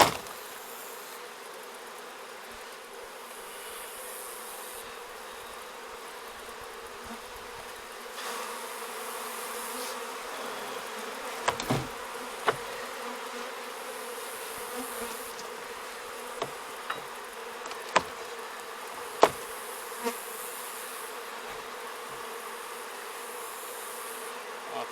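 Steady, dense buzzing of many honey bees close up, with a few sharp knocks and clicks scattered through the second half.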